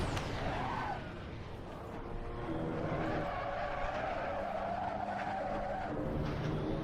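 A race car in the Assetto Corsa racing game skids with squealing tires over a continuous engine drone, the tire screech rising and falling as the car slides, loud and close with no talk.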